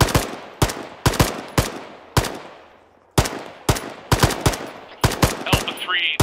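Friendly troops firing in Arma 3, a loud sequence of about a dozen sharp gunshots in irregular bursts, each echoing and decaying, with a short pause midway and faint radio-like chatter near the end.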